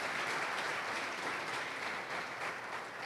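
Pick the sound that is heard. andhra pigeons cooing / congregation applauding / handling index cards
congregation applauding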